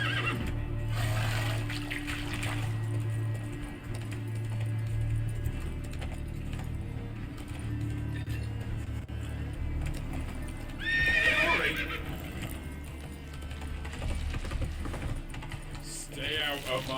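Roach the horse in The Witcher 3 clops along with steady hoofbeats and lets out a distinct neigh, surrounded by game ambience and low background tones.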